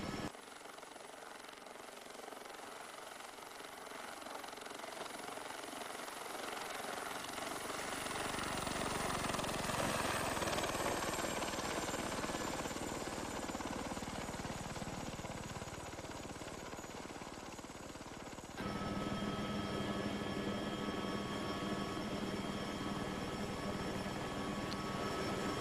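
An AS350 helicopter from the Prepar3D flight simulator flying past, with a steady broad rotor and engine roar that swells toward the middle and then eases off, heard alone with no talk.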